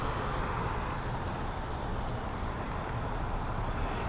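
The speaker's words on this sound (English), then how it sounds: "comes a car." A car on a road at night approaches with a steady broadband engine and tire rumble, moderately loud and continuous throughout, with no voices.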